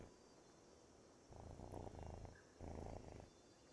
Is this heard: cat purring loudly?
yes